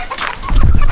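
Chicks and adult bantams clucking and peeping in a coop, a busy overlapping chatter of small birds that grows louder and closer in the second half.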